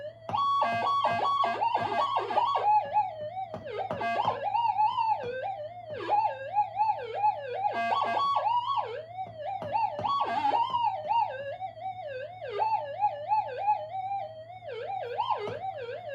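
A Minelab gold metal detector gives a continuous warbling electronic tone that wavers up and down over a steady low hum, loud and close, with no talking throughout.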